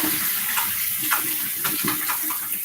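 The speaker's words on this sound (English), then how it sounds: "Rinsing my hands off." Hands rinsed under a running tap, a continuous close splashing rush of water with small fluctuations as the hands move through the stream.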